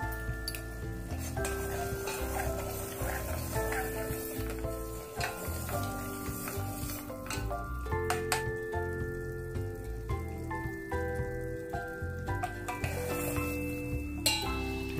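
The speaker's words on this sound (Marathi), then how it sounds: "पाकाला उकळी आलेली आहे" Sugar syrup with cardamom powder and saffron bubbling steadily in a pan, a soft continuous sizzle with occasional light clinks of a utensil, close and fairly quiet.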